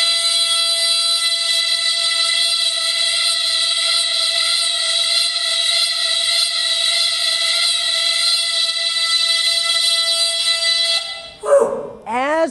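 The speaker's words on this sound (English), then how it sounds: "As the noisemaker went towards the camera, you should have heard a higher pitch. And as it moved back away, the pitch should have gone down." Electronic noisemaker swung in a circle overhead, giving a steady, loud, buzzing high-pitched tone that holds for about eleven seconds before the pitch suddenly swoops and wobbles as it cuts off.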